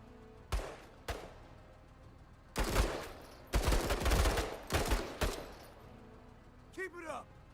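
Bursts of gunfire aimed at blaster bugs in the tactical game MENACE, several loud volleys separated by short gaps, with a voice speaking near the end.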